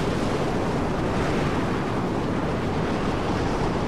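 A steady, loud roar of storm wind in the video game Mad Max, broadband and unbroken, like gusting wind with no voices.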